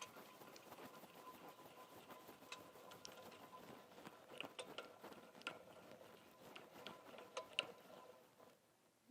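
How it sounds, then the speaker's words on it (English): Faint, steady ratcheting and ticking from an adjusting rod being cranked and threaded into a MAG-8200 lawn mower blade sharpener, with irregular small mechanical clicks throughout. "simply crank this and keep threading it in until we see it come out the bottom"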